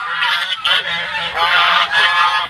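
A flock of geese near a water spinach patch honks in a loud, steady overlapping chorus, with brief dips between bursts of harsh, nasal calls close to the listener.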